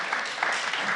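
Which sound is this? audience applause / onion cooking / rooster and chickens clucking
audience applause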